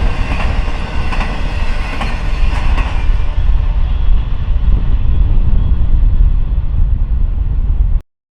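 A Norfolk Southern intermodal freight train led by two C6M locomotives passes close by, a loud continuous rumble of engines and rolling wagons with wheel clatter, ending abruptly.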